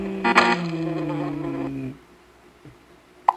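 Mosquito buzzing in a mobile video game: a loud, steady whining drone with layered harmonics lasting about two seconds, then cutting off, followed by quiet with a couple of faint clicks and a short sharp blip at the end.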